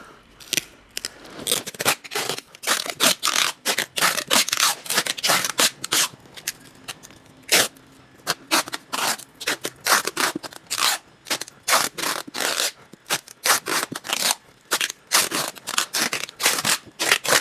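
Packing tape ripped off a roll and wrapped tightly around a heavy parcel of car chassis parts, a dense run of sharp tearing and crackling bursts, close and continuous with no talk.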